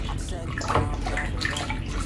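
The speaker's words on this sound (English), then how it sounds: "make sure you mix the shampoo so it melts in the water" Water sloshes and swirls steadily as purple shampoo is stirred into it by hand, a dense continuous splashing close up with no talking.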